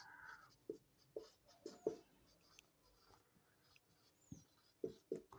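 Chalk or marker tapping and scraping on a board during a Bengali maths lesson, a series of short, fairly faint strokes in irregular bursts with quiet room background and no speech.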